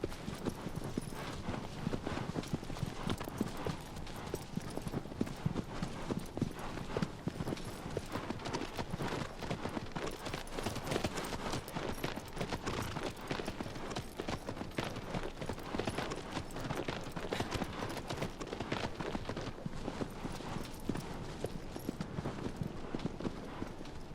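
Steady galloping hoofbeats of a horse in the video game Shadow of the Colossus, continuous rhythmic clopping at a constant loudness for a long stretch with no other prominent sounds.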